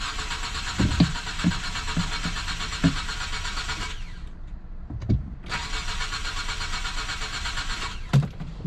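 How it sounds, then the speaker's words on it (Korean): A Hyundai Grandeur TG fails to start: the starter whirs and cranks loudly, stops, then cranks again for several seconds without the engine catching. Faint knocks and clicks are heard between and around the attempts, with no talking. "근데 왜 시동이 안 걸릴까요?"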